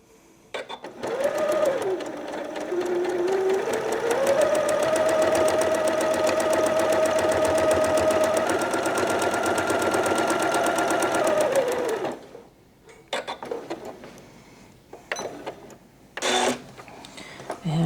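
A sewing machine stitching straight lines across a quilt block runs in one steady, rapid mechanical chatter for about eleven seconds with a faint motor hum, then stops, followed by a few short clicks and handling noises nearby.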